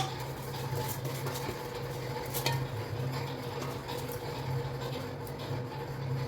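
Soaked rice being stirred into chicken biryani in a pot, giving a steady scraping and mixing sound with light clinks against the pot, close and continuous, with a low hum in the background.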